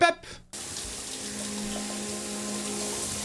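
A shower runs steadily in a bathroom scene from the series Daredevil: Born Again, a constant hiss of falling water that starts abruptly after a brief moment of other sound and continues evenly to the end.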